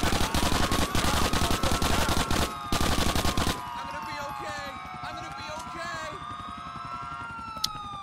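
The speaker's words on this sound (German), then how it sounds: "Aber irgendwie Spaß, ins Nichts zu schießen oder nur diese Blutspritzer zu sehen" Rapid automatic gunfire in GTA IV: The Ballad of Gay Tony, loud close bursts that stop abruptly after a few seconds, then wailing police sirens under someone talking.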